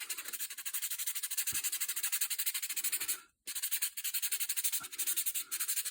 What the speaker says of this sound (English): So again, just sand out those lines.